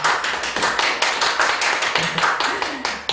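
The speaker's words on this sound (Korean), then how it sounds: "다시 한번 박수 보내드립니다." Clapping and applause from the audience at a Korean gospel concert broadcast, a brisk, close patter of several hands with slightly uneven beats, joined by faint voices underneath.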